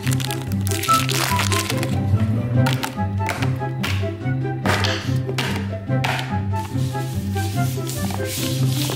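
Pokemon card packs are torn open one after another, producing repeated sharp crinkling foil rips and crackling bursts in an irregular rhythm, close and fairly loud, over a steady musical background.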